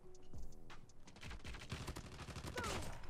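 Rapid automatic gunfire from an AGR build of the Damascus weapon in Call of Duty Mobile, loud and continuous bursts filling the clip with dense overlapping shots.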